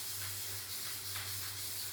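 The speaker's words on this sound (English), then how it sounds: "So we're going to spray this." Spray paint hissing onto a Dollar Tree egg carton, a steady close aerosol spray running nearly continuously, with a faint low hum underneath.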